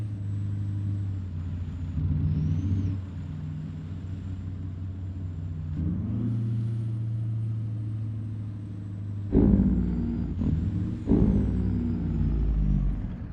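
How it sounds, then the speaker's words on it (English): Engine brake and turbos on a custom Peterbilt truck in American Truck Simulator: a loud, low rumbling drone shifts pitch several times, with whistling turbo whine above and harsh braking bursts late on. "The engine brake sounds fucking badass."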